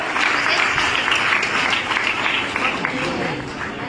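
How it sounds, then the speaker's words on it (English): Sustained applause from a large audience at a college graduation day ceremony, steady and full, with some voices mixed in underneath. "Give them a huge round of applause."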